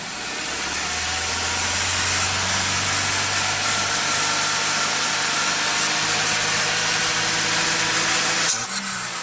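A freshly cleaned car engine idles close by with a steady, even drone and a low mechanical hum, and a brief knock comes near the end. There is no talking.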